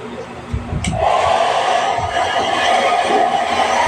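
A hot air blower heats a carbon-pattern sticker being applied to a motorcycle's front fairing, its steady whooshing roar rising after a second and holding loud and continuous, with faint background noise.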